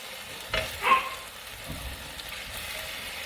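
Steak frying in a skillet with cauliflower, stirred with a mix and chop spatula: a soft, steady sizzle with a couple of brief scraping stirs near the start, fairly quiet and close, no talking.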